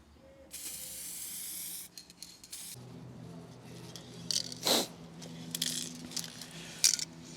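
Aerosol spray paint hisses onto chrome delete door handle covers for a 2022 third-generation Toyota Tundra in magnetic gray, a long burst followed by several shorter bursts with light clicks and rattles.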